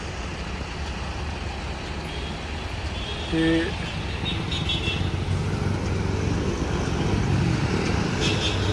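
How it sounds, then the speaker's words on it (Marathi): Busy city road traffic with trucks and cars: a steady, continuous roar of passing engines and tyre noise fills the clip, with a brief louder vehicle sound midway and a short spoken word at the start. "ट्रॅफिक बघा ट्रॅफिक"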